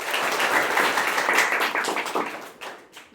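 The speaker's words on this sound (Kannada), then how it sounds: "ಅವರಿಗೆ ಎಲ್ಲರೂ ಜೋರಾದ ಚಪ್ಪಾಳೆ" Audience at a school celebration applauding a folk song performance, a dense burst of clapping that swells steadily and then thins out toward the end, moderately close.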